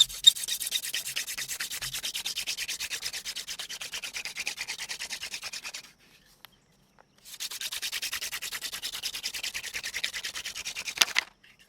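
Bow drill spindle grinding in an oversized fire board notch, a steady rapid back-and-forth rasping strokes for about six seconds, a short pause, then another long run of close, even rubbing.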